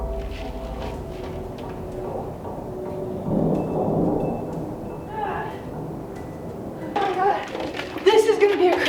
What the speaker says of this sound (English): This is gonna be a crazy storm.